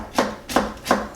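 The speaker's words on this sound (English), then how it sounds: "Chop them up." Three evenly spaced knife chops strike through walnuts on a board, close and distinct, each a short thud with a brief crunchy tail, with quiet gaps between them.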